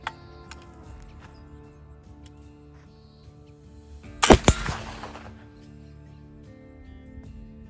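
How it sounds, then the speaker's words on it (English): A single gunshot from a muzzleloader loaded with homemade 1880s-recipe black powder made with cottonwood and pea charcoal, a sharp loud blast with a short rumbling tail after several seconds of quiet outdoor ambience. "shot number 1 with the cottonwood and peas charcoal"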